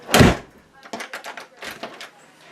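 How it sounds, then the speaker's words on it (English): A house door with newly installed weather stripping swings shut with a loud thud at the start, followed by quieter handling and knocking sounds from the door and frame. "See if the door closes."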